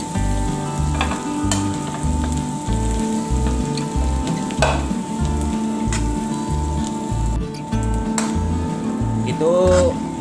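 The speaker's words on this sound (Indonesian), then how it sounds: "Tumis hingga harum." Shallots and garlic sauté in butter in a pan, a steady close sizzle and crackle running throughout, with a rhythmic low thumping underneath and brief scraping stirs.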